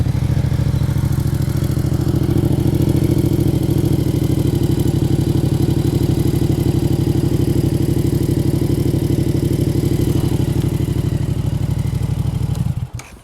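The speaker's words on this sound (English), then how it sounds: "Let me turn on the bike." A Yamaha MT-07 (FZ-07) motorcycle engine runs at a steady, loud idle close by, a low throbbing rumble that holds evenly for about twelve seconds before cutting off abruptly.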